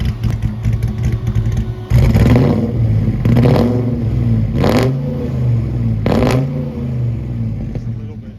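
A Foxbody Mustang engine fitted with Pro M EFI idles roughly, then is revved in four sharp blips that rise and fall, loud and close, with people talking between revs.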